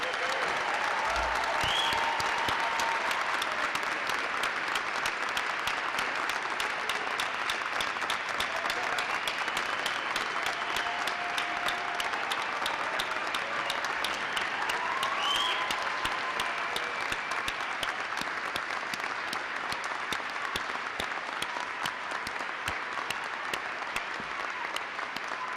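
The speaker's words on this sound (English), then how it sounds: "Let's give them all a round of applause." Sustained applause for graduates at a 2013 winter graduate commencement ceremony: dense, even clapping from a large crowd filling the hall for nearly half a minute, with a few faint whistles.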